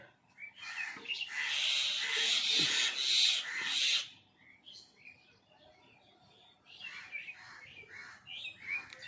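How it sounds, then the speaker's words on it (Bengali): Myna birds near their nest in a mango tree screech harshly and loudly for a few seconds, then quieter chirps and calls follow, nearby and outdoors. "আর পাখিগুলো খুব চিল্লাচ্ছে"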